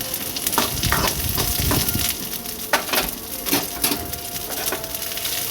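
Split green chillies and fried garlic crackle in hot oil during Bengali prawn cooking, a busy close sizzle broken by repeated scraping stirs and clanks of a spoon against the pan.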